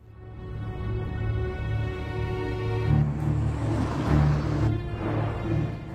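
A car engine hums steadily, then rises and roars as the vehicle pulls away, fairly close with no voices.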